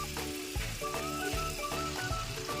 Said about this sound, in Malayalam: മാഗ്നേറ്റ് ചെയ്ത് വെച്ച ചെമ്മീൻ നമ്മൾ ചെറുതായിട്ടൊന്ന് വറുത്തെടുക്കുകയാണ്